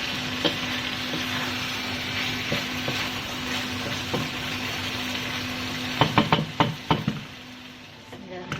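Ridge gourd (turai) sizzles steadily while being fried in a pan for a chana dal curry, with a constant hiss and a run of sharp knocks from stirring near the end.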